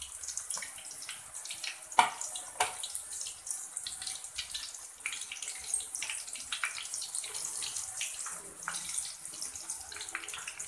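Oil bubbling and sizzling in a pan while making banana and potato chips, a steady busy crackle throughout with a few sharper pops, close and moderately loud.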